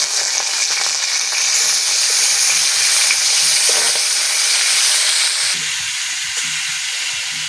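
Pieces of yogurt-marinated chicken fry in a spoonful of hot oil in a kadai, giving a loud, close, continuous sizzle with a bright steady hiss throughout.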